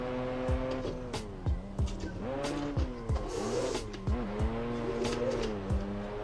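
Car engine bogging in third gear while drifting through a corner, a steady strained engine drone with repeated pitch dips as revs sag, plus brief tire noise, loud and close with no talk.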